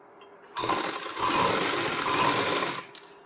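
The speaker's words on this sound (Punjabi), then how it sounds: "ਦੇਖੋ ਜੀ ਇਸ ਤਰ੍ਹਾਂ ਕਿਨਾਰੇ ਕਿਨਾਰੇ ਤੇ ਸਿਲਾਈ ਲਗਾਉਣੀ ਆ" A sewing machine runs a zigzag lace stitch along the edge of a salwar in one steady, close burst of about two seconds, starting and stopping cleanly.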